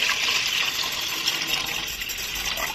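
Running water splashing steadily over mung beans as they are rinsed, a continuous close gushing hiss like a tap pouring into a bowl, with no voices.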